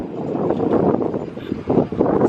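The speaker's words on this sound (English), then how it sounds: "It's a bit windy out here today" Wind blowing outdoors, a loud buffeting rumble against the microphone that surges and eases over a couple of seconds, with no other sound.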